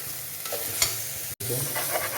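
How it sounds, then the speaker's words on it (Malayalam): Ginger-garlic paste stirred in a hot pan with a close sizzle and the scrape of a spoon, briefly cutting out before the frying resumes. "പച്ചമണം മാറുന്നോടം വരെ നന്നായിട്ട് ഇളക്കി കൊടുക്കാം"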